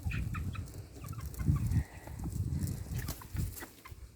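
Chickens, including young hens and roosters, cluck softly in a farmyard, with faint intermittent calls over a steady low background murmur.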